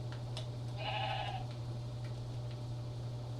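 A sheep in Minecraft gives a single clear bleat over a constant low electrical hum, with fainter blips before and after.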